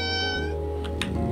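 Cat meowing in the Calico video game, a clear drawn-out meow followed by a couple of short higher chirps, loud and close.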